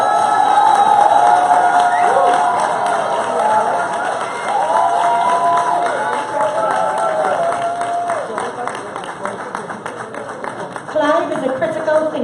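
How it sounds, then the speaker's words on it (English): An audience at an awards cocktail reception for a security services company claps and cheers in a sustained, dense crowd roar, with whoops and some voices mixed in, loud and close throughout. "Round of applause for Mr. Clive Thomas."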